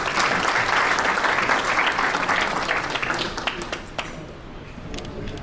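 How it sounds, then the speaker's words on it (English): Sustained applause from a crowd at a Hindu temple festival, loud and dense at first, then gradually thinning out into scattered claps. "let's give them a big round of applause"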